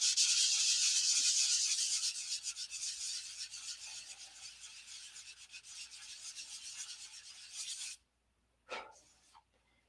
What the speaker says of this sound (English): We'll just keep sanding until